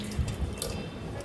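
Water poured by hand onto a potted aloe vera plant gives a brief, soft splashing trickle with small drips, quiet and close.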